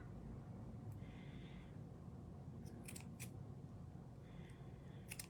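Scissors snip off the tail of a ribbon bow, giving a few quiet, crisp cuts in short bursts against a faint background hush.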